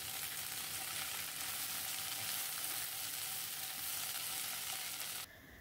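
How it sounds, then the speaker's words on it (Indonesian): Tempeh is stirred in a hot pan with a continuous bright sizzle and faint scraping of the stirring, close and steady throughout. No one speaks. "Kemudian masukkan tempe dan diaduk-aduk supaya tercampur merata."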